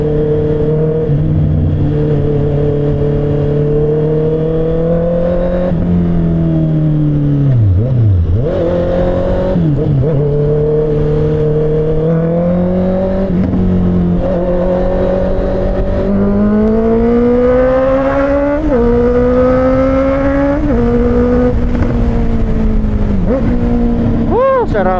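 Honda CBR650R inline-four motorcycle engine on a test ride, a loud close tone that climbs and drops through repeated revs and gear changes, held steady between rises over about twenty-five seconds.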